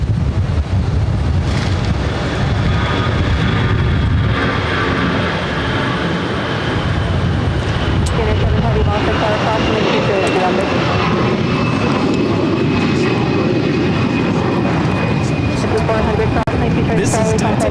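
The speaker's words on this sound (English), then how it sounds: "This is Delta Airlines 2283 taking off to Raleigh-Durham on an A319" A Delta Airlines Airbus A319 takes off at Boston Logan, a loud, sustained jet roar with a rising whine, heard from nearby, while people talk over it.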